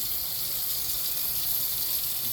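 Cornstarch gravy poured from a pan around a roasting chicken with potatoes, a steady close liquid pour with a soft splashing hiss and no talking.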